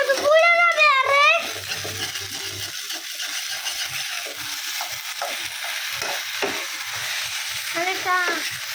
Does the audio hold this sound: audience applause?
no